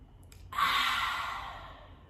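A single long breath drawn in through the nose, a soft airy rush that starts suddenly, swells and then tapers over about a second and a half, close and quiet with no talk.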